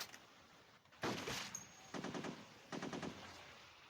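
Gunfire rattles in the mobile shooting game Modern Sniper, with one heavy shot followed by two rapid automatic bursts, fairly quiet overall and without voices.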